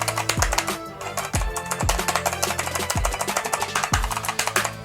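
Steady typing on a clicky TECKNET mechanical keyboard with UK layout. Crisp key clacks come in a rapid, even rhythm, close up, with regular heavier thocks mixed in, probably the space bar, about once a second.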